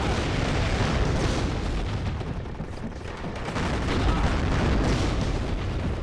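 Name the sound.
missile explosions in video game WARNO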